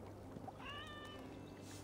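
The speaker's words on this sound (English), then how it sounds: "Oh, hey, cat." A cat in Assassin's Creed Valhalla gives a single short, fairly faint meow with a rising then steady tone, over a low hum of game ambience.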